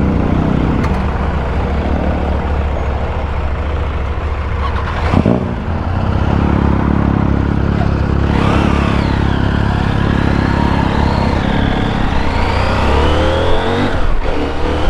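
A CFMOTO 800MT Explorer motorcycle accelerates hard on a test ride, with a loud close engine and wind rush, a brief break at a gear change, then rising revs that climb through the gears.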